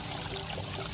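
Soft, steady splashing of water trickling down into a pond, a brief, even wash of sound.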